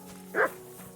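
A single short bark from a dog in Kingdom Come Deliverance 2, a sharp mid-pitched yelp over a low steady game background hum.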